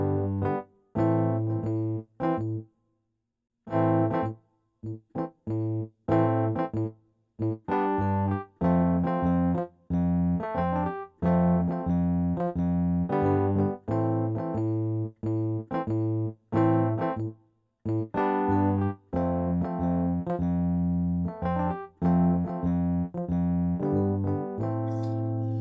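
A keyboard piano plays chords from a song, sustained tones struck in repeated clusters with a few short pauses between phrases. The playing is close and clear throughout, with no voices.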